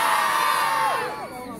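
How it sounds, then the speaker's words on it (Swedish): A live audience at a warm-up event cheers, whoops and shouts in a loud, sustained crowd roar that holds steady before easing slightly toward the end. "då gäller det att hålla applåden och jublet och skriket på högsta nivå"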